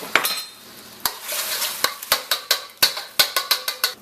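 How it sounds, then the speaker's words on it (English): A utensil stirs and taps against a wok of coconut milk on medium heat for Thai chicken curry, making a fast, uneven run of sharp metallic knocks and scrapes over a soft, close-up bubbling sizzle. "in a wok we want to add, on medium heat, our coconut milk"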